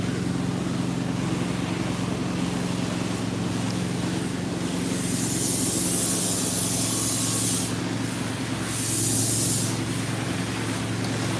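A pressure washer rinses a surface during a degreasing cleanup job, giving a continuous loud hiss over a low motor drone, with two brighter surges of spray partway through.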